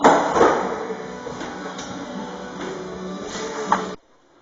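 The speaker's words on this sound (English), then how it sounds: "now I will cut the hole" Saw cutting a hole through a wooden vanity top, a steady rasping whir lasting about four seconds with a few sharper bites, then stopping abruptly into near silence.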